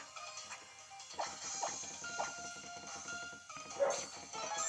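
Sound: dog barking outside

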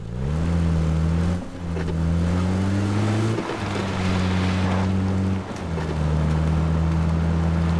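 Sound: car driving in the video game PUBG (Battlegrounds)

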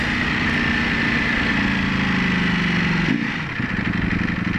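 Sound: Ducati Panigale V4 motorcycle engine downshifting

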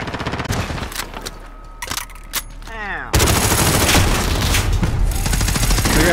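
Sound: enemy sentry gun firing in a video game

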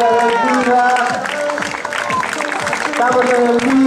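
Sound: spectators applauding a runner in a white shirt

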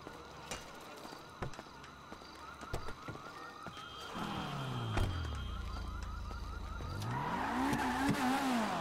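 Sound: car accelerating in a video game (GTA roleplay server)

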